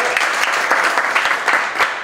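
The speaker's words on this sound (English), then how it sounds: "Let's give him a round of applause for coming." A roomful of people at a weekly startup meetup applauds a guest speaker, the company founder, with steady, dense clapping that runs close and loud for the whole stretch.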